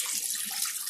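Water pours from a height onto tea powder, a short, soft splash and trickle that runs evenly for under a second. Nothing else is heard over it.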